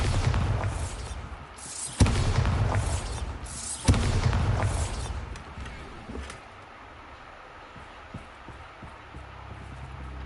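Bombarda explosion spells going off in Hogwarts Legacy, two heavy booming blasts about two seconds apart, each with a rumbling tail, followed by quieter ambient rumble and faint knocks.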